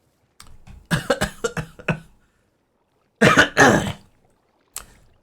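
A person breaks into a burst of harsh coughs and throat clearing after sipping water, with a few shorter rough catches before and one faint cough after, loud and close with no talking.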